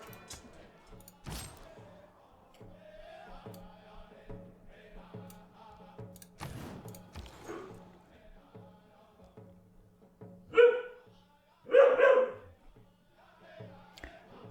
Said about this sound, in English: There's my dog barking in the background.